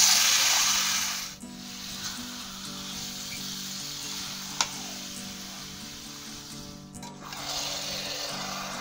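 Marinated chicken for a chicken biryani hits a hot kadai with a loud, broad sizzle that eases to a steady softer hiss and surges again near the end.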